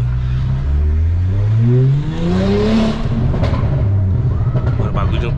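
A Porsche turbo engine with a modified exhaust revs hard near a beach, its loud, close note sweeping upward in pitch, then dropping back to a rough, rumbling idle.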